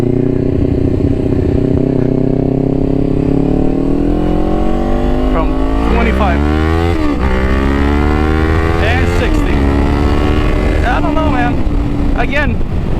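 A Kawasaki Ninja 500 accelerates hard while merging onto a highway, its engine note climbing through several rising sweeps with gear changes. Strong wind rush runs throughout, and a rider talks over it at times.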